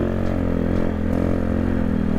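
A Honda Grom motorcycle engine running in third gear, a steady close droning hum with a low even pulse that holds level throughout, no revving and no talk.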